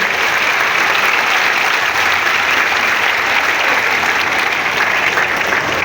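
A congregation gives loud, sustained applause after a homily at a Marian pilgrimage service, with a dense, even roar of many clapping hands that holds steady throughout.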